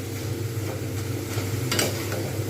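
Potatoes for crispy aloo bhaja are stirred in a pan of hot oil, with a utensil scraping and turning them over a continuous close sizzle.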